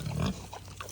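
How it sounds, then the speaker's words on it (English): Pigs at an animal sanctuary oink and grunt in a brief, close, low burst that fades into softer snuffling. "Oh, these crazy pigs."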